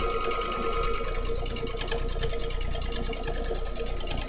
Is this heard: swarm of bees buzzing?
no